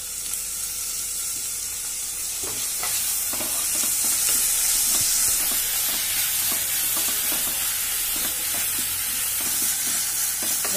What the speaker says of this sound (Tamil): வெங்காயம் தக்காளி எல்லாம் பாருங்க நல்லா வதங்கிடுது